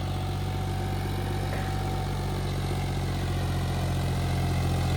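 A John Deere tractor engine runs steadily under load at close range, a continuous low diesel drone with a faint rhythmic knock and no voices.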